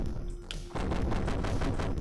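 Gunfire in a video game: a sudden burst of rapid, dense firing kicks in partway through, loud and continuous, with a brief click just before it.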